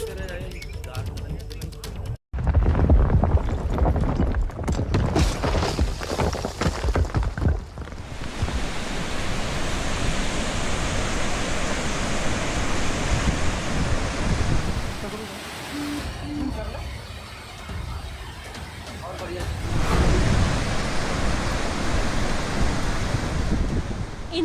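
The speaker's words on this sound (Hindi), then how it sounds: "महसूस कीजिए सैलाब का वो शोर जो न जाने कितनी सिसकियों की वजह बन गया है।" Floodwater in Shivpuri, Madhya Pradesh, swollen by days of heavy rain, gives off a continuous broad roar and rush that swells and eases over time, with a voice talking over it.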